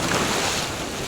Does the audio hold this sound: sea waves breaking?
yes